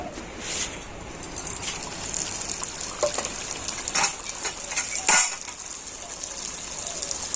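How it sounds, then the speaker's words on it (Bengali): Lachha semai vermicelli frying in hot oil and dalda gives a steady bright sizzle, with a few louder crackling bursts near the end. "তেলটাকে খুব ভালো করে গরম করে নিয়েছি আর এবার আমি এই লাচ্চা সীমাটা তেলের মধ্যে দিয়ে দেব"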